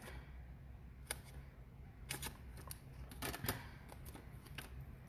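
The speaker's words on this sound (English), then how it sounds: "I like to trim them up a little bit." Scissors trimming the edges of a sheet of dimensional craft stickers, a few faint, sparse snips and paper rustles at close range over a quiet room hiss.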